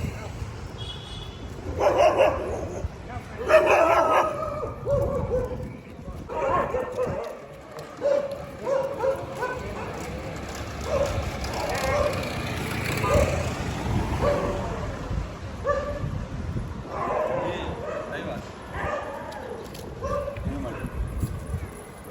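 Dogs bark in an area full of dogs where an aggressive dog is being trained; short barks and yips come in bursts at mid distance, mixed under steady talking.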